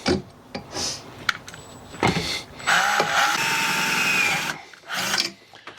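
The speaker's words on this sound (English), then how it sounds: "we drilled the hole" A power drill bores a hole at a work site, a steady whirring grind lasting a couple of seconds after several short knocks and bursts, close and fairly loud with no talk.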